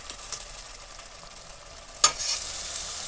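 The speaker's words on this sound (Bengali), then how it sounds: "এটা একটুখানি কষিয়ে নেব" Spice paste for prawn and radish chorchori sautéing in a pan, a soft steady sizzle with a brief louder clink or stir partway through, close and without talk.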